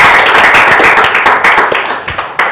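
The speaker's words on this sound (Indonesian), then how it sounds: "Boleh tepuk tangan dong." An audience at a business seminar claps steadily in a dense burst of applause that fades slightly toward the end.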